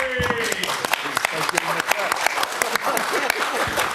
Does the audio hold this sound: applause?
yes